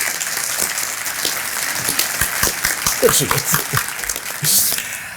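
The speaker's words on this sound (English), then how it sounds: "Give Charlotte a big round of applause with Chamber Storm Insurance." Audience applause at a Rooster Booster morning breakfast event, a steady patter of clapping from a room of guests lasting several seconds, with a few chuckles and voices mixed in and a brief louder swell near the end.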